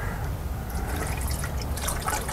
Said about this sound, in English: So we'll go ahead and do another test pour.